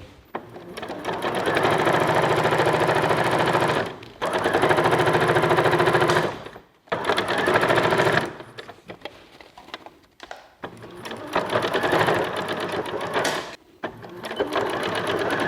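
A sewing machine stitches clothing fabric together with its lining, a loud steady mechanical whir running in long bursts with short pauses between them.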